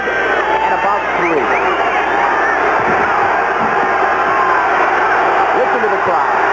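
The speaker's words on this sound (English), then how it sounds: "Listen to the crowd." Roaring football stadium crowd cheering loudly and continuously at a Houston Gamblers at Michigan Panthers game, with scattered shouts and whoops over a dense, sustained din.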